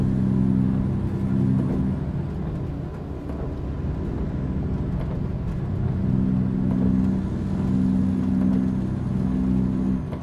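Heavy truck engine with an Eaton Fuller 18-speed gearbox droning steadily in American Truck Simulator on a snowy drive, a loud low rumble with harmonic hum that swells and eases slightly, no talk.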